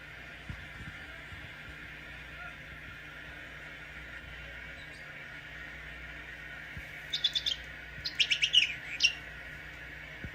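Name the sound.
chirping toy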